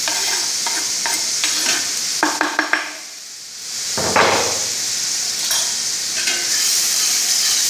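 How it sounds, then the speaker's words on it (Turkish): Peppers and onions sizzle loudly in a hot pan, with a few quick clanks of a utensil and a burst of hissing as the peppers are stirred in. "soğanımızın içerisine biberlerimizi koyuyoruz."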